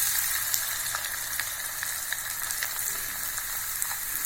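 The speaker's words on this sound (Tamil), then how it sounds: "எப்படி பொரியுதுன்னு பாருங்கள்." Aval vathal, rice flake crisps, fry in hot oil with a dense, steady sizzle and scattered sharp pops and crackles, close and continuous, no voices.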